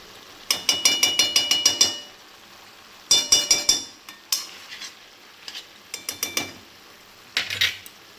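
A spatula stirring banana flower curry in a pan, with quick rhythmic metallic scrapes in runs of several strokes, close and crisp, pausing between bursts.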